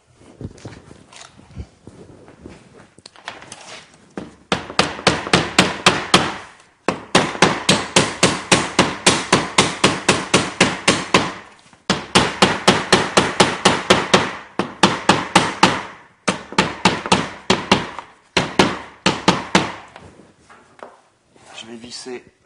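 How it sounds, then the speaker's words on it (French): Hammer blows drive an electrical box into place while a room's lighting is installed, coming in rapid sharp bursts of many strikes separated by brief pauses, close and loud. "J'utilise un marteau."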